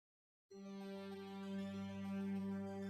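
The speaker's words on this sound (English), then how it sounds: "you can see I've got a pad, which sounds like this." A sustained synthesizer pad starts after a moment of silence and holds a steady, harmonically rich chord that swells slightly, quiet and alone.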